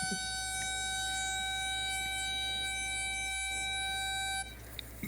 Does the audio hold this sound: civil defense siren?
yes